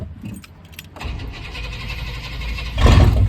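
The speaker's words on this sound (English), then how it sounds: "The cold start." A car's cold start: keys jingle, then the starter cranks and the engine catches about a second in, settling into a loud, rough idle that swells into a stronger rev near the end.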